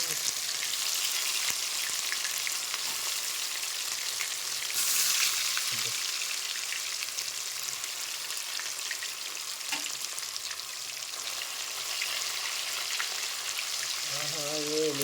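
Pieces of pond fish fry in hot oil with a loud, steady crackling sizzle that carries on without a break, with occasional pops and light stirring.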